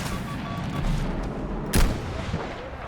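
Battlefield V gunfire: one loud, close shot with a heavy low thump partway through, set against a constant rumble of distant battle noise. No one speaks.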